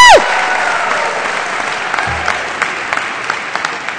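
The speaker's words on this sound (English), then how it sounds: "Yeah, you can applaud, please." An audience at an interfaith organization's anniversary gala applauds steadily for about four seconds, a dense, even wash of clapping that follows a short whoop at the start.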